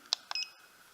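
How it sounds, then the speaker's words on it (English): A Bellacorp TPMS tool gives short electronic beeps while sensor icons are cleared, a quick chirp followed by a brief double tone, close and fairly quiet, with no talking. "And when you hear a beep,"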